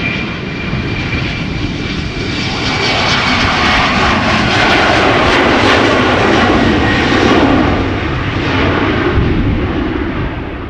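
A jet airliner takes off and climbs steeply out of Schiphol Airport, its broad engine roar loud and close, swelling to a peak and holding steady before easing slightly as it gains height.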